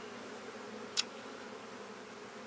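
A newly captured honey bee swarm hums in a backyard hive as a faint, steady drone, with one brief sharp tick partway through and no talk.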